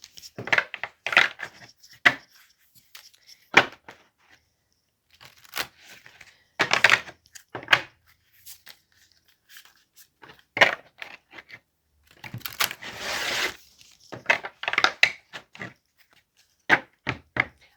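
Playing cards shuffled by hand in an awkward, gentle style, giving repeated short crisp riffling bursts separated by pauses, close and fairly quiet with no talking.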